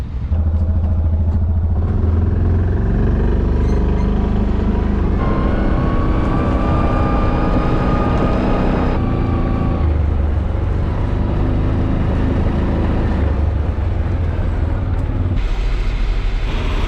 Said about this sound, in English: Now I'm gonna drive the tandem truck down to the cart